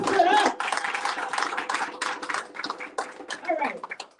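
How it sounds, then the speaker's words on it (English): Audience applause at a gathering of contractors, a dense crowd clapping steadily from nearby and then thinning into scattered claps, with voices murmuring underneath. "So let's give Noel a round of applause"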